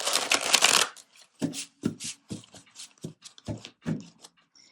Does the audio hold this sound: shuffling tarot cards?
yes